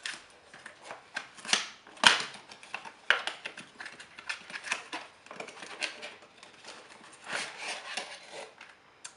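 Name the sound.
unboxing Fujifilm Instax Mini 8 camera box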